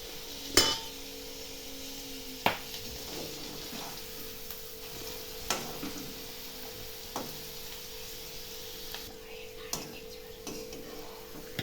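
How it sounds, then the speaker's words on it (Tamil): Banana flower finger chips fry in bubbling oil with a steady soft sizzle, broken by a few sharp clinks of a utensil against the pan. "இந்த மாதிரி எண்ணெய் முறைச்சி வர்றது அடங்கினதும் வெந்துருச்சின்னு அர்த்தம்"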